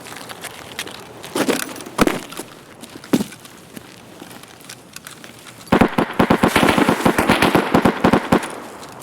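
Gunfire in a raid-style shooter video game: scattered single shots and distant pops, then a dense, rapid burst of shooting from about the middle onward, loud and continuous over background noise.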